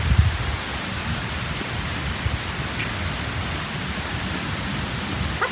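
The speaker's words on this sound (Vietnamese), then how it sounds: "Đang mưa to." Heavy rain at the Thang Long Imperial Citadel archaeological site in Hanoi, pouring as a constant, even hiss with a low rumble underneath and no voices.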